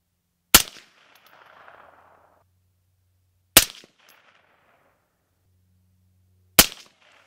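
Three loud, sharp gunshots fired through a suppressor can, evenly spaced about three seconds apart, each a sudden crack with a short decaying tail and near silence between.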